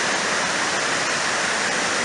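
Floodwater on the Parramatta River rushes past in a steady, loud, broadband roar, continuous throughout with no breaks and no voices over it.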